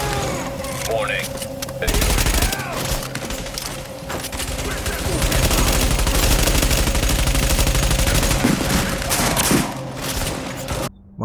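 Sustained rapid bursts of automatic fire from a Vector submachine gun in a video game, dense and loud, with game effects layered in. No voice is heard.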